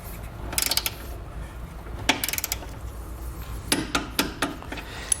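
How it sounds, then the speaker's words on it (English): A 19mm socket torques bolts on a Blue Ox base plate kit fitted to a 2014 Chevrolet Malibu, heard as close clusters of sharp metallic clicks and ratchet ticks with short quiet gaps between bursts. "We're going to come back with the 19mm socket and torque the bolts."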